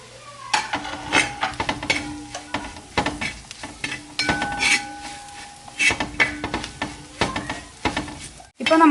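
Ground spice powders, garam masala and coriander, roasting in a pan for a Kerala-style crab roast, with repeated scraping and stirring strokes and clinks of a spatula against the metal pan, close and steady with a faint sizzle underneath.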